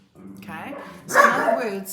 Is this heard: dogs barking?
yes